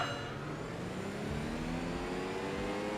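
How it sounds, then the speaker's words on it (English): A turbocharged station wagon in Enthusia Professional Racing drones steadily at high revs, its engine tone rising and holding with turbo whoosh, loud and continuous with no talking. "as you can hear the more aggressive turbocharger as well, the blow off valves and the whooshing and everything"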